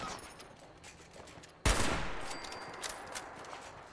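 A single loud sniper rifle shot in Fallout 76 cracks out sharply, then decays into a long echoing tail over quieter game ambience.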